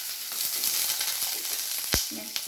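Food sizzles and fries in a pan with a steady, close crackling hiss, broken by a couple of brief sharp utensil knocks near the end.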